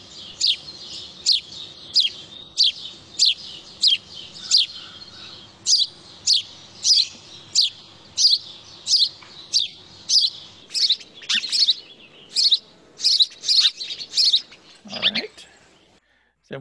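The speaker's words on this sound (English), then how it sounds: "House sparrow." House sparrow song: a steady series of bright, repeated chirps, about one per second for most of the stretch, clear and fairly close, with faint background murmur and a brief low thump near the end.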